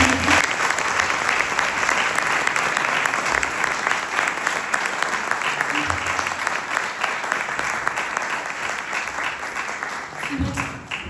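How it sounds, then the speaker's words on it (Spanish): Audience applause for director Carlos Sorín at a film festival talk: a large crowd claps steadily and warmly for about eleven seconds, dense and even, with faint murmurs mixed in. "me gustaría empezar con un gran aplauso también, además de ellas, a Carlos Sorín, que está presente aquí"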